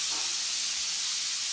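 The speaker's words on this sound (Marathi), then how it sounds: "कुकरची शिट्टीचा आवाज आला" A pressure cooker whistle releases steam in a village home kitchen, a steady breathy hiss that holds at an even moderate level through the whole moment.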